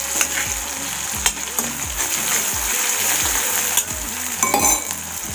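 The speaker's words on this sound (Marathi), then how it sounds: "टमाटर तेलामध्ये छान असे मऊ शिजून जातात" Onion and tomatoes softening in hot oil, a steady close sizzle with repeated rhythmic spatula scrapes and occasional light clinks against the pan.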